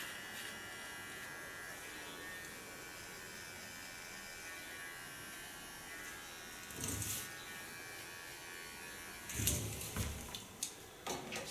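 Electric clippers shave the side of a woman's head of natural curly hair, a constant close buzzing drone with a few brief louder bumps and handling knocks toward the end.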